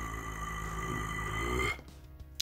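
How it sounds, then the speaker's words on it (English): A singer produces a low, rough vocal growl in the fire-breathing style, a sustained gritty rumble for under two seconds before cutting off into a short noisy breath. "The first one is the vocal growl,"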